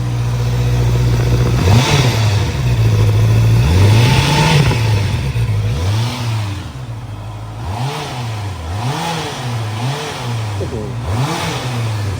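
A Honda CB650R with a stainless exhaust revs repeatedly up close, throttle blips rising and falling in quick succession over a running idle, loud and continuous.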